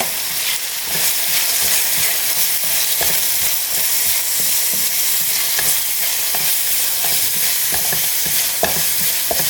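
Kashmiri chilli and turmeric masala sautéing in a pan for tomato rice, a loud continuous sizzle broken by repeated scraping stirs of a spoon against the pan, close by and without talk.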